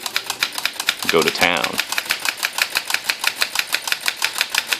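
Rapid, evenly spaced typing strikes from a 1929 green Corona Special Folding 3 portable typewriter, crisp and close, with a brief spoken phrase cutting in partway through before the steady key clatter resumes.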